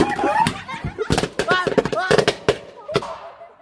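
Firecrackers bursting beneath an overturned bucket during Chhath Puja celebrations, a ragged series of sharp cracks and pops, loud and close, with excited voices talking between the bangs.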